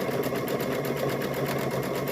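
A sewing machine runs steadily, stitching right along the edge to close the seam of a stuffed bear, a fast continuous whirring rattle heard up close without pause.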